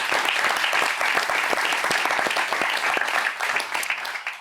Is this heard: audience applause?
yes